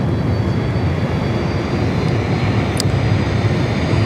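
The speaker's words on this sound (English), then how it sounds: "I can hear some CF6 engines." A Qantas Freight Boeing 767 with CF6 engines flies past near Sydney Airport, giving a loud, steady jet roar that holds evenly throughout with no voices.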